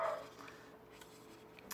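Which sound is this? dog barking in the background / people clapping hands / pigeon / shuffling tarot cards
dog barking in the background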